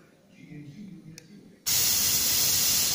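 Compressed air from a bottle blows through a torch burner stem to clean it. A quiet lull breaks into an abrupt, loud, steady hiss that continues to the end.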